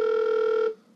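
Telephone ringback tone during a Google Voice call placed through Gizmo5: a single loud, steady electronic tone lasting most of a second, then cutting off into quiet.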